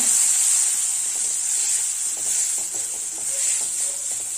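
Turmeric and chilli powders being mixed into onions sautéing in a pan on low heat, a loud steady hiss of frying with faint light scrapes from stirring, close and without talk.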